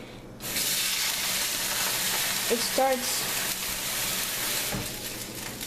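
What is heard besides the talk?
food sizzling in a frying pan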